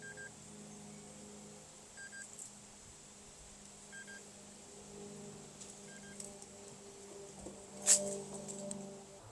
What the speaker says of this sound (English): It also beeps at you as well